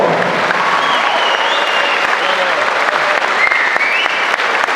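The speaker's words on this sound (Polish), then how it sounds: "bardzo Państwa proszę teraz naprawdę o takie ogromne brawa dla tych dwóch panów" Sustained, dense applause from an audience at a charity boxing gala in a sports hall in Tuchola, steady and loud for the whole stretch with faint voices mixed in.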